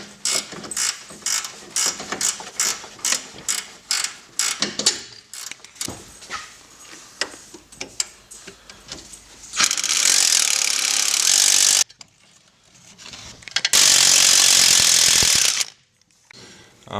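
A ratchet wrench works a bolt out of its threads during a Land Rover lift kit install, giving rapid close mechanical clicking that slows, followed by two long bursts of loud harsh broadband noise.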